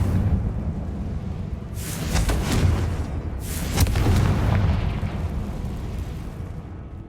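Confringo explosion spell in the video game Hogwarts Legacy, two rumbling fiery blasts a couple of seconds apart over a continuous low roar, each swelling and fading without sharp peaks.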